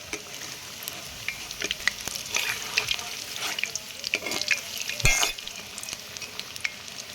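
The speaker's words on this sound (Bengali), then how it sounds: "এইভাবে করে সবগুলো পকোড়া আমি উল্টিয়ে দেবো" Beetroot pakoras frying in hot oil and being turned over, a steady crackling sizzle with scattered clicks and taps from the flipping, fairly close with no talk.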